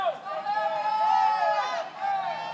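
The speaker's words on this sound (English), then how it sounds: "And the crowd is cheering for him to continue on." Crowd at an amateur fight cheering and shouting for a fighter to keep going, a dense continuous roar of many voices with rising yells, fairly close and loud throughout.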